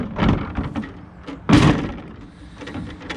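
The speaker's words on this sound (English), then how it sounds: "that little clunk seeds the drawer so that you can't shut it" DECKED drawers in the bed of a Toyota Tacoma give a few rolling thuds, then one loud, solid clunk as a drawer locks in the open position, followed by quieter knocks.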